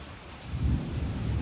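A heavy thunderstorm brings steady hard rain with a deep rumble of thunder swelling midway, close and continuous, with no voices.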